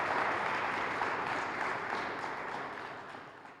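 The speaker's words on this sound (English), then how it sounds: "So I just love a big round of applause for these kids and the coaches" Audience applause for children and their coaches at a community event, a dense broad wash of clapping that holds steady and slowly fades over a few seconds.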